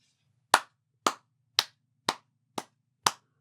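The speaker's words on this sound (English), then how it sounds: "Round of applause." Six single sharp hand claps, evenly spaced about half a second apart, crisp and close with silence between them over a faint low hum.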